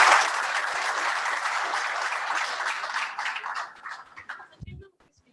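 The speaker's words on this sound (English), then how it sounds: "I think that is a big round of applause." Audience applause at a launch event, a dense, steady round of clapping that fills the room, then thins into scattered claps and fades to silence near the end.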